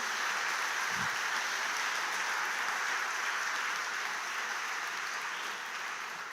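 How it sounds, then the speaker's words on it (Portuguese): A church congregation claps for Jesus, steady moderate applause filling the room with a brief low thump near the start. "dá um aplauso bem forte a Jesus."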